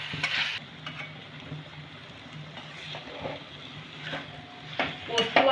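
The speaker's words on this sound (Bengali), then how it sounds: "এঁচোড় আর আলুর সাথে ভালো করে একটু কষে নেব এটাকে।" Young jackfruit and potato being stirred and sautéed with ground poppy seed and cashew paste in a pan, with soft intermittent scrapes and clinks over a faint low sizzle.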